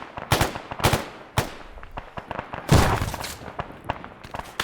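Gunfire in the combat video game Arma 3: a series of sharp, loud shots in irregular bursts, with a heavier blast partway through and faint trailing echoes between the shots.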